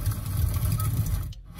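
Campfire nature sound played through the sound system of a 2021 Hyundai Tucson: a dense, steady crackling hiss over a low rumble that carries on, then drops away abruptly near the end.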